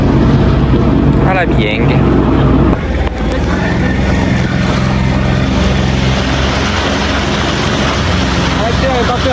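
A jet ski engine runs steadily on open water, a continuous loud roar with a brief dip partway through, while people talk over it.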